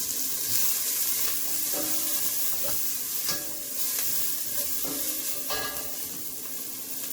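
Fish ingredients sizzle steadily in a small amount of olive oil in a pan for Jamaican steamed fish, with a continuous close frying hiss and occasional stirring clinks throughout.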